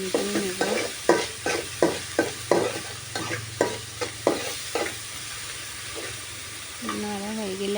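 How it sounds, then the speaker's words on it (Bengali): Shrimp stirred with salt in a frying pan, a steady sizzle under repeated scraping strokes of a spatula in a quick rhythm, close and clear, with a voice briefly heard near the end. "এখন আমি লবণ দিয়ে একটু নেড়ে চেড়ে নেব।"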